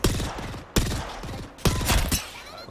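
Gunfire from the video game Apex Legends: three sharp bursts of rapid shots, each starting with a loud crack and trailing into a rattling decay, spaced roughly a second apart.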